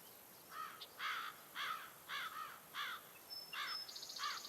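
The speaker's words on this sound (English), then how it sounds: "We'll listen to the crows in the meantime." Crows caw in a steady series of harsh calls, about eight evenly spaced caws at moderate distance over a quiet hiss, heard alone as game background in the Bastion video game.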